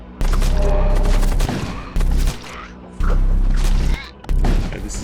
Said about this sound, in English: And why is the ship still firing?